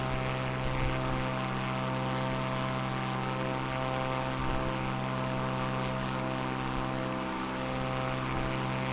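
A propeller aircraft engine droning in Microsoft Flight Simulator 2024, a steady loud hum with strong even tones that holds unchanged throughout.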